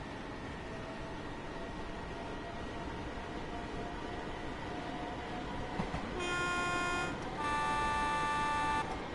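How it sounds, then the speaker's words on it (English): Two horn blasts from an ECW Class 313 electric train in Train Sim World 2: a short toot, then a longer, clear two-tone sounding over a steady low rumble of the moving train. "Cute horn."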